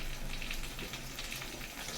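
Tomato added to spices frying in a pan for a red fish-and-potato curry, giving a steady, dense sizzle with crackling close by throughout, no talking.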